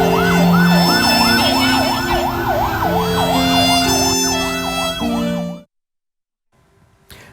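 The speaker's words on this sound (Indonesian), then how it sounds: "Ambulan." A loud ambulance siren wails in rapid repeating sweeps alongside a horn tone at the Cianjur earthquake site, then cuts off abruptly into near silence.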